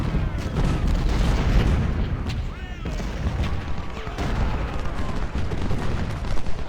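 Civil War artillery and musket fire at Gettysburg in Ultimate General: Civil War, a dense continuous rumble of cannon booms and crackling volleys with a voice talking over the battle.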